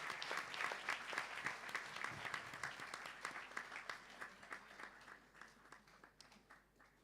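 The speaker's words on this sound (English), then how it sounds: "a beautiful, beautiful round of applause, please, of gratitude to Prabhuji" An audience at a live London event applauds in thanks to Prabhuji, a dense, steady crowd clapping that carries on for several seconds and slowly thins toward the end.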